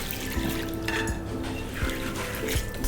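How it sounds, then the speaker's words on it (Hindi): Soaked urad dal being rubbed and washed by hand in water, with steady swishing and splashing and a few louder sloshes, close and without talk. "अब इस दाल को पहले अच्छे से रगड़ के मैं वॉश कर लूंगी।"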